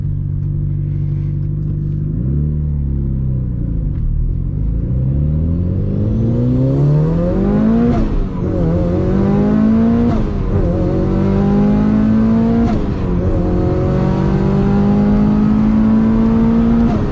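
Mitsubishi Lancer Evolution 8, an all-wheel-drive car, revving hard while driving, loud engine climbing through several rising pulls with brief dips between gear changes, heard from inside the cabin.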